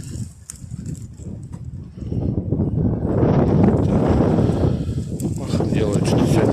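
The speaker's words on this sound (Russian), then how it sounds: "Ветрище, конечно." Strong wind blowing on an outdoor street beside a building under construction, rumbling and buffeting the microphone in a dense low roar that swells louder midway and stays heavy to the end.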